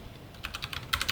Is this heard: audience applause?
no